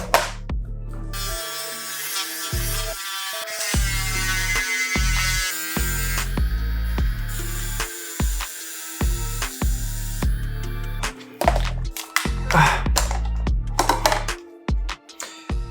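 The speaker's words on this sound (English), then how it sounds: "So I'll be drilling with my respirator on" Drilling into the carbon composite shell of a Pulsar X2F gaming mouse, a high whining drill that runs in bursts with short pauses, ending in choppy, intermittent grinding.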